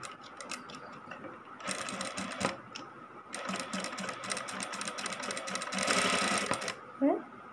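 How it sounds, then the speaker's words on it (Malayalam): A sewing machine runs a straight-line stitch during tailoring practice, its rapid needle clatter coming in several close, loud bursts separated by short pauses, with a voice faintly present. "എന്നിട്ട് നമുക്ക് സ്ട്രെയിറ്റ് ലൈൻ സ്റ്റിച്ച് ചെയ്യാം."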